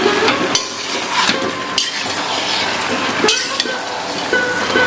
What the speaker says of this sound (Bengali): এর মধ্যে দিয়ে দেবো আলুগুলো দিয়ে ভালো করে নাড়িয়ে ছাড়িয়ে নেব